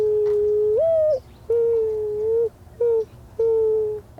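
A person's voice imitates a mourning dove, giving a series of four drawn-out, mournful coo notes with short pauses between them, heard close and clear over a faint low background hum.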